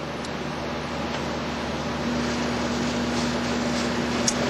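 A Sorvall Super T21 refrigerated superspeed centrifuge starts up, its steady mechanical hum joined partway through by a clear, rising whine that settles into an even tone.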